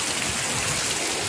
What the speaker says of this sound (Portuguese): muita chuva em Manaus, alagou minha garagem aqui toda